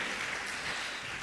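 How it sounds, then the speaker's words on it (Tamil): A church congregation claps hands in praise during a Tamil sermon, producing a dense, continuous wash of applause at steady loudness. "கைத்தட்டி ஆண்டவரை மகிமைப்படுத்துங்க"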